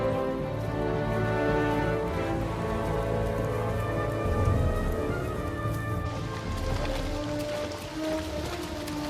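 Steady rain patters on a surface, a dense continuous hiss of drops, fairly close and unbroken throughout.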